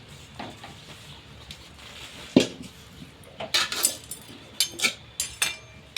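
A kadai is lifted off the stove and set aside during the making of desi ghee mohanthal, with scattered metallic clanks and clinks of pots and utensils, one sharp knock near the middle and several louder clatters toward the end.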